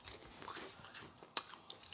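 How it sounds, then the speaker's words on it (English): Someone chews chips close to the microphone, giving a few sharp, crisp crunches and quieter mouth sounds over two seconds with no talking. "if you hear some chewing, it's just me having"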